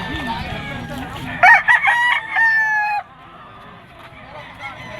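A bulik rooster at a Friday pet market in Bocaue, Bulacan gives one loud, close crow lasting about two seconds, over a low murmur of market voices.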